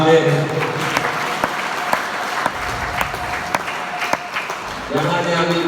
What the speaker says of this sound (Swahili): Hebu pigie tena Yesu makofi mengi sana.